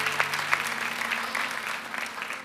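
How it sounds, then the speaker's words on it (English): Soft applause fills a church congregation during a baptism service, a continuous patter of clapping from a crowd heard at a distance, fairly faint and even throughout. "give him a round of applause"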